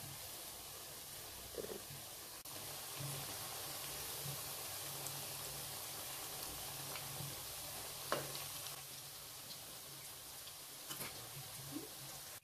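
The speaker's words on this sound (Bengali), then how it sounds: "আমাদের মাছের টিকিয়াগুলো প্রথম ব্যাচ কিন্তু ভাজা হয়ে গেছে।" Fish cutlets fry in a pan, a faint steady sizzle with occasional soft clinks and stirring sounds, no one talking.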